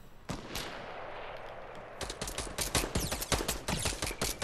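Sniper and rifle shots ring out in a shooter video game, a few isolated cracks early, then a dense run of sharp, loud shots with rapid bursts from about two seconds on.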